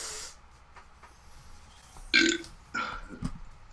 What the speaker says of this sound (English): Dude, you're gonna have so many burps.